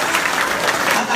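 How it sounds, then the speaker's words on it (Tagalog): A brief, loud burst of dense clapping from an audience at a marketing plan presentation, filling the whole moment with steady applause. "Palakpak."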